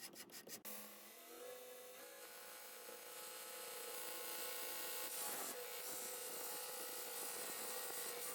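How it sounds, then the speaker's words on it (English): A Grizzly 2x42 knifemaking belt sander runs with a coarse 36-grit belt, starting with a few sharp knocks before settling into a steady, loud motor whir and belt hum that grows slightly fuller, with a brief rasp midway. "Now this sander really hogs material away."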